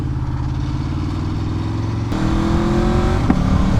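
An Aprilia Xtrenta track motorcycle engine drones loud and close, then jumps to a harder, higher rev partway through and stays strong to the end, with no voices over it.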